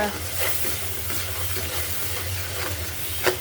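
Spices including red chili powder and cumin powder sizzle steadily as they are stir-fried in a pan, a continuous close crackling hiss with occasional stirring scrapes and no talk.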